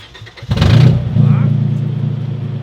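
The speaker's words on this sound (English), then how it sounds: "That's how V6 should sound." A V6 engine on a vehicle touring the Eastern Cape Highlands is started and revved once, a loud near burst that settles into a steady low rumble.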